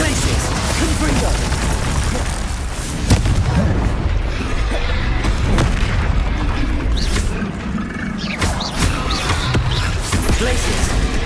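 Fiery Confringo spell blasts in Hogwarts Legacy combat against a troll, with dense, continuous booming explosions and crackling bursts layered over one another throughout the clip, alongside clashing effects.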